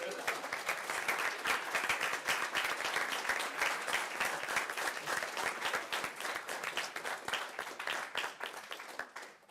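A crowd at an architecture prize ceremony claps steadily and loudly throughout, dense applause that tapers slightly toward the end.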